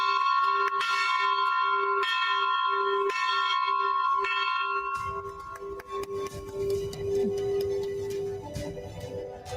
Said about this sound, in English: ringing the bell here from NSE itself